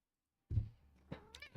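A cat meows once or twice close by in a quiet room, each call short and clear with a soft thump at the start and no talking.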